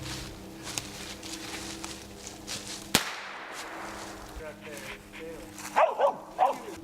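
Dog barking during a squirrel hunt in the woods: several sharp, loud barks and yips come in short bursts toward the end, after a sharp crack near the middle, with people talking throughout.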